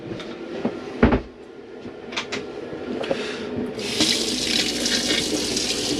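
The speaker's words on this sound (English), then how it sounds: "this is just showing that your water is pressurised with the pump on" A pressurised tap with the pump on in an Auto Trail Tribute F68 motorhome sputters and clunks at first, then water gushes steadily from it in a loud, hissing stream, close by.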